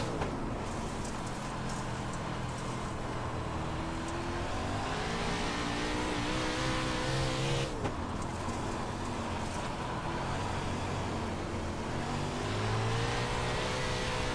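A race car in iRacing drives through a slick, wet track, its engine rising and falling in pitch as it accelerates and shifts, steady and close, amid a hiss of rain-like spray.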